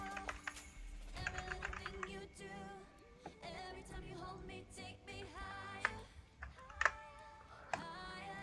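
Notes being typed on a computer keyboard during a networking lab session, a quiet, steady patter of key taps heard under background music.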